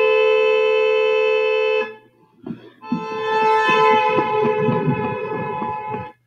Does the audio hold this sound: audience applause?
no